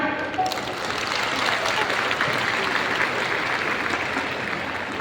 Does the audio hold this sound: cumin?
no